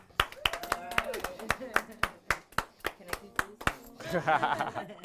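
Claps ring out after a four-coin coins-across magic routine, a sparse, steady run of sharp hand claps from a small group with a voice talking over them and a brief burst of chatter near the end.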